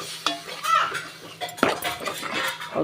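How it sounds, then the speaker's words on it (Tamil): Coconut paste ground with ginger and garlic sautéing in a pan for an omelette egg curry, with a spatula scraping and clinking against the metal in an uneven rhythm under a faint sizzle, close and moderately loud. "அந்த தேங்காயும் நல்லா தட்டி போட்டு அதையும் வதக்கணும்"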